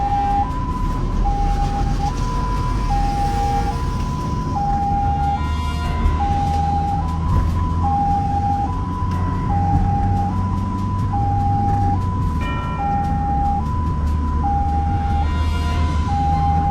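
An ambulance siren wails in a steady two-tone alternation from onboard the emergency vehicle during morning rush-hour traffic, loud and continuous over road and engine rumble.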